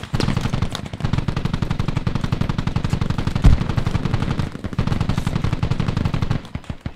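Sustained automatic gunfire from a squad firing in the military shooter Squad, loud rapid rattling bursts close by, with one heavier thud midway and a brief pause before the shooting resumes.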